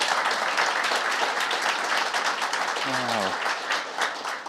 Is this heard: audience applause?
yes